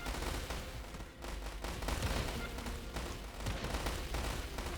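Anti-aircraft cannons fire in the video game Island War in dense, rapid volleys with overlapping bursts of booming gunfire. The barrage is loud and nearly continuous, with brief dips, and no talk is heard.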